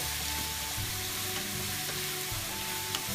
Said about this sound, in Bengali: পেঁয়াজটা ভাজতে হবে